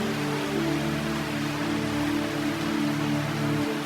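Pounding rain pours down in cheetah country, a steady, dense hiss that fills the whole stretch evenly with no voices.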